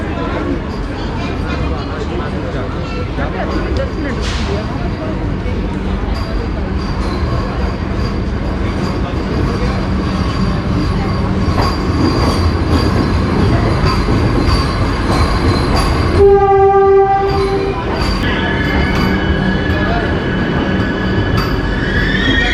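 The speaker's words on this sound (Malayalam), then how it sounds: "ട്രെയിൻ ഇപ്പോൾ 5 മിനിറ്റുള്ളിൽ വരും." Steady rumble of a Vande Bharat Express train pulling into a station, with a loud wheel squeal and brake hiss partway through, under background crowd chatter.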